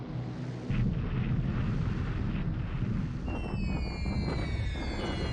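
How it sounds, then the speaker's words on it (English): A 500-pound bomb strikes a ship in the naval war game War in the Pacific, heard as a loud rumbling, roaring blast that carries on for several seconds with a windy, crackling texture. "We hit it again. 500-pound bomb."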